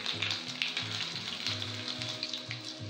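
Mustard seeds and coarsely crushed garlic crackle and sizzle in hot oil for tomato rasam, a steady busy frying hiss with small pops throughout, up close and without talk.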